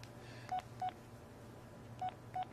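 Four short touch-tone keypad beeps from a Verizon phone while a text message is typed, evenly clear and close, widely spaced over a low steady hum, with no voices.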